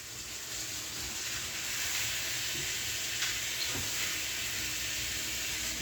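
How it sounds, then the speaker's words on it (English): Shrimps cooking in a pan that keeps being shaken: a soft, steady sizzling hiss with a few faint clicks and scrapes, fairly quiet and with no voices. "So what I'm doing now is just keep shaking the pan, making sure it doesn't stick."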